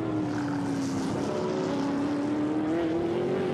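A BMW GT1 race car in qualifying at Donington crosses the line with its back end stepping out, its engine a steady, loud, sustained drone with slight shifts in pitch.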